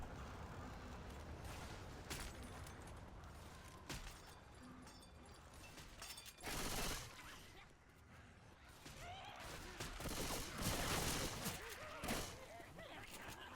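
Gunfire in the video game Left 4 Dead during a competitive match, with scattered bursts and sharp shots under game character voices and talk, rising in intensity toward the end.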